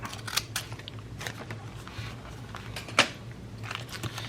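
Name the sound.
scissors cutting fabric scraps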